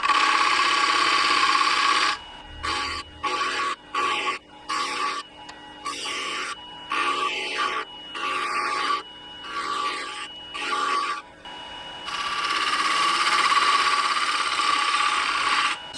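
Wood lathe turning a small ornament, a tool cutting away bulk material in short repeated passes: a steady high whine broken by rapid interruptions, with continuous spinning at start and end.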